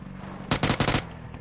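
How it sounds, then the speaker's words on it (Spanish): Gunfire in the video game PUBG: a rapid burst of about four shots packed into half a second, sharp and moderately loud against a low background hum, with no talking. "Escucho tiros ahí, por esa casa de ahí,"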